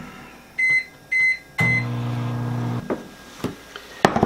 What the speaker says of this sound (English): just stick it back in the microwave